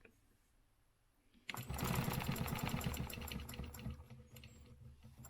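A sewing machine stitching a quilt along a stencil starts abruptly after a quiet moment, then runs in a loud, fast, steady mechanical patter, close up, with no talking.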